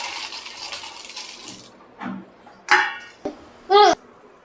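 Peanuts fry in hot oil for a South Indian bakery-style mixture with a soft sizzling hiss, followed by a few sharp metallic clanks and scrapes of a utensil against the pan.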